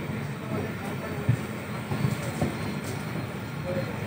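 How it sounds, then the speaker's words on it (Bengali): A passenger train pulls out of Malda Town station, its carriages rumbling in a steady low roar with faint rhythmic clicks, heard from on board with crowd noise around. "এই যে আমাদের ট্রেন মালদা টাউন দিয়ে ছেড়ে দিল আর পরবর্তী গন্তব্যস্থানের উদ্দেশ্যে।"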